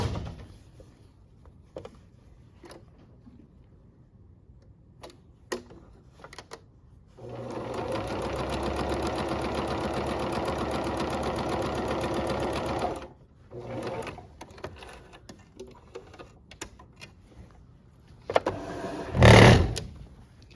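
A sewing machine runs top stitching along fabric in one steady burst of about six seconds, close and fairly loud, between quieter handling sounds and clicks.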